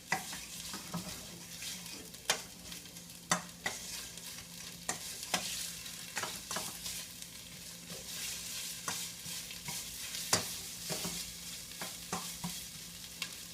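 Thai green curry paste sizzles on high heat as a spoon stirs and presses it in the pan; a constant close fry is broken by regular sharp scrapes and taps, with no talking.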